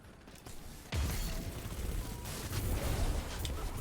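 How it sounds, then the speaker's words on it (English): Booming explosions in the Destiny 2 video game, heard as a sudden sharp blast followed by a dense rumbling, crackling wash with further bursts. The sound is continuous and fairly loud throughout. "Just kind of explosions."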